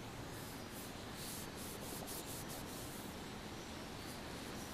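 Otis gun cloth rubbed over gun metal to polish it: a continuous soft, hissy rubbing and scrubbing, faint and close, with no talk.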